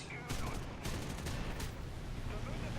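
Machine gun fire from a P-39N fighter in War Thunder arcade air combat: sustained rapid bursts over a loud continuous engine drone, with sharp broadband volleys starting and stopping in quick succession.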